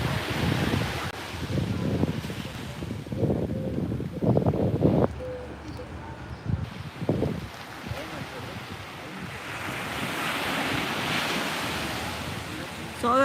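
Ocean waves washing over rocks along the Puerto Vallarta shoreline, a steady broadband rush mixed with wind buffeting the microphone, with a voice talking briefly early on.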